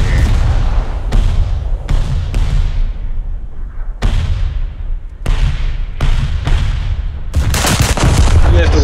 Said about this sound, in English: view it in third person and then fire